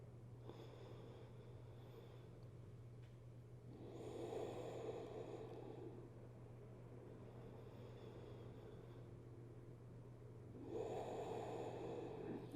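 Slow, steady breaths in a yoga thread-the-needle stretch, two soft swells of inhaled air standing out over a constant low hum, with quieter breathing in between.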